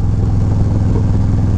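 Motorcycle fitted with an SP Concept 2-in-1 aftermarket exhaust riding on winding mountain roads of the Kancamagus Highway in New Hampshire, a loud, steady low engine drone recorded close, with no talking.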